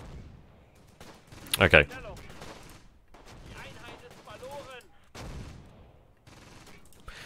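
Mortar shell fire from the Close Combat video game lands as a loud burst of explosive gunfire near the two-second mark, with someone speaking calmly over quieter battle ambience before and after.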